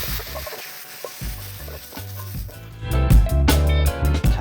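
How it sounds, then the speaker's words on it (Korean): Carrots, potatoes and meat stir-fry in a pot, with loud continuous sizzling and the scrape and clatter of stirring growing busier toward the end. No one speaks. "당근을 볶아줍니다"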